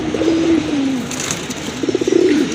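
Pigeons for sale coo close by, a soft, low throaty cooing phrase at the start and another rising burst near the end, with a faint hiss of background noise and no speech.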